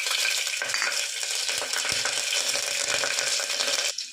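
Mustard seeds and cumin dropped into hot oil crackle and sizzle in a dense, steady spatter that runs without a break from start to finish, close and fairly loud.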